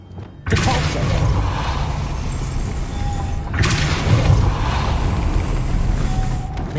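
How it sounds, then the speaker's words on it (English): A spinning mechanism in Hogwarts Legacy raises a platform with a loud, rushing mechanical whir and grinding rumble that starts abruptly, swells again midway and keeps running steadily. "Making this spin ought to raise that platform"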